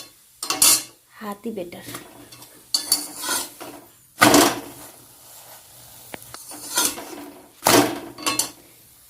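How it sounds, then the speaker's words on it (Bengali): Parathas frying in a pan with very little oil, with metal utensils clattering and scraping against the pan in intermittent bursts and a faint sizzle underneath; a voice speaks briefly. "একদম কম তেলে পরোটাগুলো ভেজে নিচ্ছি।"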